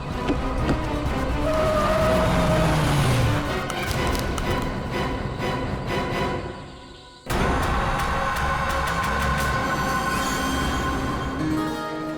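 A taxi drives along with a loud, continuous engine and road noise that rises and falls. There are clattering knocks, then a brief dip, before the drone returns at full strength.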